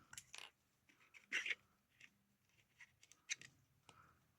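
Scissors cutting paper for an expanding journal, a few short crisp snips spaced apart at close range, quiet in a calm room without talk.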